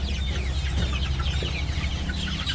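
A flock of village farm chickens, raised for sale, clucks and chatters continuously and loudly close by, many overlapping calls forming a busy, unbroken barnyard din.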